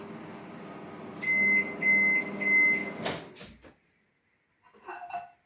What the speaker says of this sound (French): le micro-ondes en marche pour vous montrer le matcha